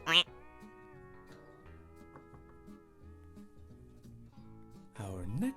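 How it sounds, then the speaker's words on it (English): A cartoon duck gives short quacks at the start and end of a children's farm-animal puzzle game, with gentle background music playing between them. "There's the duck with its little ducklings."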